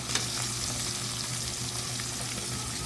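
Fish frying in a pan, a steady, dense sizzle with faint crackles and pops, moderately loud and unbroken throughout.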